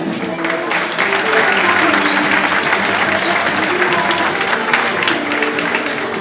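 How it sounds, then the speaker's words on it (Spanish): Audience applause for bikini competitors at a Galician fitness competition, a dense, steady wash of clapping and crowd noise lasting throughout, with a faint voice and some whoops over it. "Un fuerte aplauso para estas chicas."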